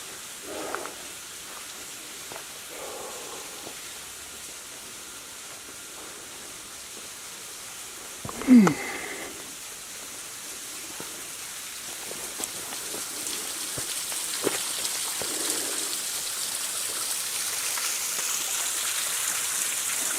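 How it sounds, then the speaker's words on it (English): A small waterfall in a rocky gulch at Turkey Run State Park gives a steady, soft rushing wash heard from a distance, with one brief thump partway through and the water noise swelling slightly toward the end. "little waterfall up there."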